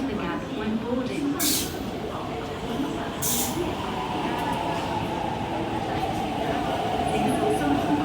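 A metro train pulls into Kowloon Tong station's platform in Hong Kong, a loud continuous rumble and wheel whine building steadily, with brief hissy bursts and a platform announcement voice over the noise.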